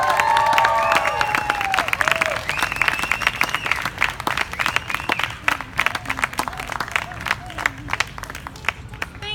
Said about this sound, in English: give a big, warm round of applause for Sam Wasson's mom